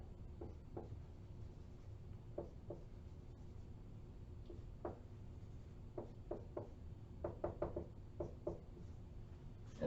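Marker or pen strokes while drawing chemical structures during an organic chemistry lecture on Diels-Alder stereochemistry, heard as scattered short scratchy taps and squeaks in small clusters over a steady room hum.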